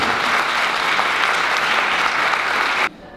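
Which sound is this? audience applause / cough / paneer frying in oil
audience applause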